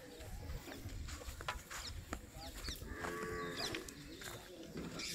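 A Jersey cow at a dairy farm gives a drawn-out moo amid background farm noise and rustling, moderately close and fairly quiet.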